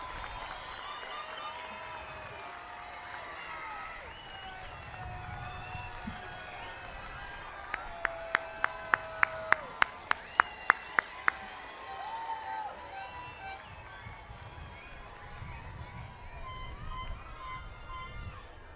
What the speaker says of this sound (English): give them a round of applause to thank them for their support